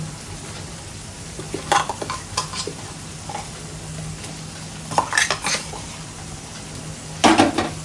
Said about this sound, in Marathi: आणि त्या वाटण पण मग मसाल्यामध्ये आपण छान असं परतवून घ्यायचं आहे